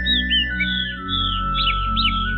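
A Chinese hwamei songbird sings bright, high chirping and warbling phrases in quick bursts, set against a steady electronic hum and droning background tones, with no speech.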